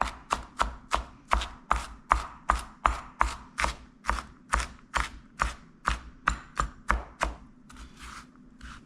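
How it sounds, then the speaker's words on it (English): A knife mincing herbs for chimichurri strikes a cutting surface in a fast, even rhythm of about twenty crisp chops, close and clear, then stops. "we're going to get this minced up."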